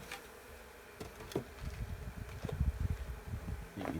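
Low, buzzing hum of bees around a hive, faint and continuous, with a few rustling ticks and louder buzzes passing close.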